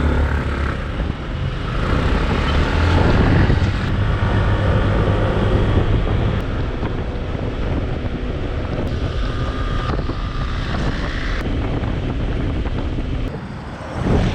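Strong coastal wind at Şile, Turkey, buffeting the microphone with a steady roar, heavy low rumble throughout, alongside the drone of a boat moving on water.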